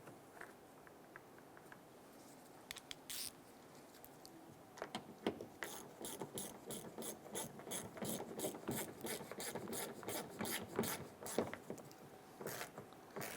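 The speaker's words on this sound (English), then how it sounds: "Install your upper bumper screw." A ratchet clicks rapidly in bursts as the upper bumper screw on a 2012-2017 Toyota Camry is tightened during a taillight replacement. The tool sounds close and fairly quiet, with brief pauses between the rapid runs of clicking.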